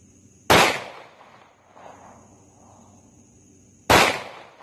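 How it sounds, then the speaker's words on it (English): Two sharp pistol shots from a Taurus G3 fired at a shaving cream target 10 yards away outdoors, spaced about three seconds apart, loud and close with short echoing tails and no talking. "we'll be shooting the red shaving cream on the left from 10 yards with the Taurus G3"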